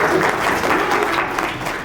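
Audience applause at a smart class and solar lights inauguration event, loud, dense and steady, with no voices over it.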